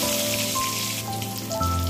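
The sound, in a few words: eggs frying in hot oil with salt and turmeric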